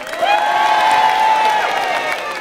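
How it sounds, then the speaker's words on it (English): An outdoor audience at a Christmas carol concert in a Shrewsbury square cheers and claps for a voice choir, with a sustained high whoop rising over a broad wash of clapping. "a round of applause, if you will, for the Shrewsbury Male Voice Choir"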